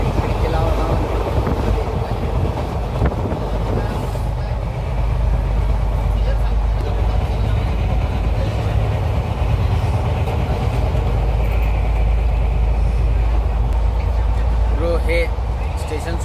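Passenger train rolling on after pulling out of Roha station in heavy rain, a steady loud rumble of wheels and carriage noise throughout, with people talking faintly inside the coach.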